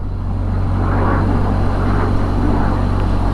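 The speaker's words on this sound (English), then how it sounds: "Eurofighter." A Eurofighter jet passing over a Lake District valley gives a steady, distant broadband roar beneath a constant low hum, sustained for the whole short stretch with no talking.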